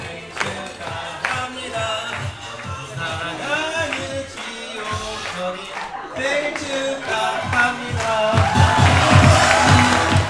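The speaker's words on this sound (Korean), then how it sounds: "자, 다 같이 박수!" Guests at a first birthday party clap together on cue, the clapping mixed with music and crowd noise and swelling louder toward the end, with voices around it.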